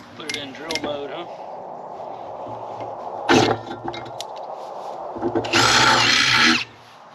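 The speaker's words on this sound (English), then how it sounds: "Let's put it in drill mode," A hammer drill punches a hole through the metal base of an Evolution S380CPS metal chop saw, two loud grinding bursts up close, the second longer, after brief talk at the start.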